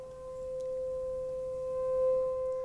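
Steady electronic tone from a Mixtur-Trautonium shaped by its subharmonic generator filter, a sustained pure pitch with faint harmonics held evenly and quietly throughout, with no voices.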